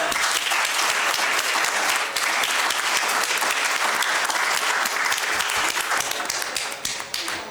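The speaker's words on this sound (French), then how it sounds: "J'ai envie qu'on les applaudisse à nouveau." Many hands clap together for student contestants at a school quiz competition, a thick, even wash of applause that holds strongly throughout and begins to thin near the end.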